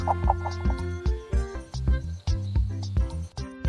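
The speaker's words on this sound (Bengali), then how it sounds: "এটা হলো মোরগ। মোরগকে ইংলিশে বলে কক।" A rooster clucking in short, repeated, rhythmic bursts, close and fairly loud, with a hint of background tones.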